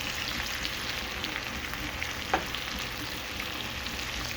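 Mushrooms being stirred into frying bacon in a pan for Southern fried cabbage, a soft steady sizzle with one brief scrape of a utensil midway, fairly quiet and close.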